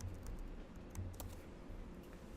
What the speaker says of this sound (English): So you type in here JavaScript into the search bar.